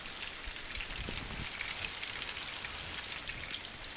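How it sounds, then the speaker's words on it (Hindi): Potatoes sizzling while frying in a pan for home-style aloo bhujia, a steady crackling hiss like light rain, fairly quiet and continuous with no talking. "सिजलिंग साउंड कानों को बड़ी अच्छी लगती है"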